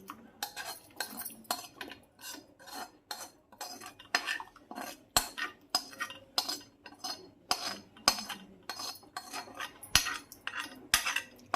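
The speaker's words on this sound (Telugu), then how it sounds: "తీసుకొని మరుగుతున్న పాలలో మనం ఇలా వేసుకోవాలండి." Pumpkin for kaddu kheer is added to boiling milk in a pot with a metal spoon, giving a run of repeated sharp clinks and scrapes against the vessel, close and moderately loud.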